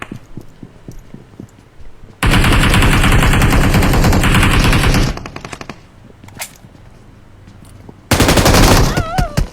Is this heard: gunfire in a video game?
yes